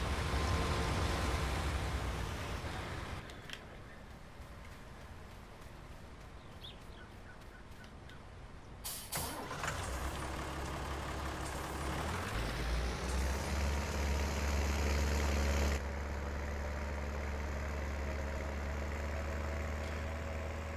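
A tractor engine in Farming Simulator 19 drones steadily, with a low rumble that rises and shifts as it revs up midway and then settles into a loud, constant hum.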